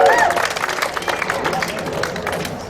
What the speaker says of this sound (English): Let's give a big round of applause for Lynn